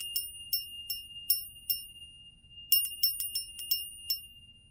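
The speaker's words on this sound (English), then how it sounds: "The bell that was sitting next to your stone, each one had a different bell." A small bell rings in two bursts of quick, bright repeated strikes, clear and alone over a faint low hum, during a stone-picking oracle reading.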